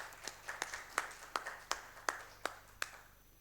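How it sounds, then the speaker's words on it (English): Sparse applause for a company's core team at a corporate pharma event, sounding as a handful of separate claps spaced irregularly, fairly faint and thin rather than a full crowd ovation. "Let's have a big round of applause."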